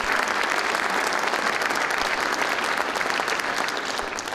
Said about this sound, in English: So parents, can we give our students a round of applause for being scholars?